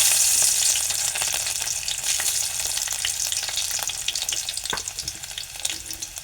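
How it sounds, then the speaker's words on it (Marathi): Garlic frying in two small ladles of hot oil in a pan, a steady close sizzle with scattered crackles and occasional stirring clicks, no voices. "त्यामध्ये तेल घेतलं आहे दोन पळी बारकी आणि त्यामध्ये मी लसूण टाकतो"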